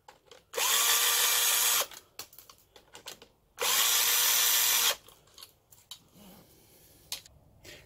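A power drill spins out clutch bolts on a first-generation Suzuki Hayabusa in two loud, close bursts of about a second each, separated by light clicks and handling noises, with no one talking.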